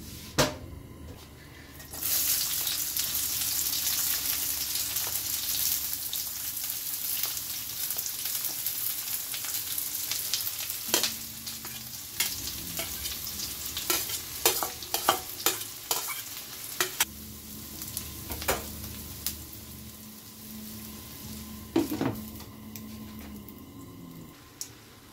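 Pork intestines fry in oil with a constant close sizzle while a spoon stirs and scrapes the pan, clanking sharply at intervals over the hiss.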